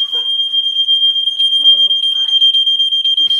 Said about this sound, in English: at the end of it there was a fire alarm going off